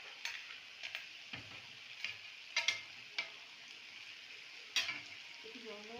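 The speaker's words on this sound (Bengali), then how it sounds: "মাছগুলো দিয়ে একটু ফুটিয়ে নেবো" Bhetki fish simmering in a potato and cauliflower curry, with a soft bubbling hiss in the background and occasional light clicks and taps of a utensil against the pot.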